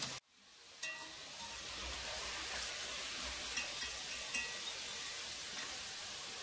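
Chicken pieces frying in a pan for spicy chicken pickle, a steady close sizzle with faint clinks of stirring, no talking.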